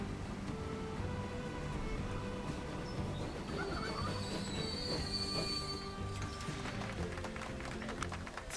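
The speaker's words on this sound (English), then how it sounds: "And the train is here." A train pulls into a station in the video game Transport Fever 2, its wheels squealing loudly against the rails over a steady rumble of rolling cars, close and continuous, with no talk.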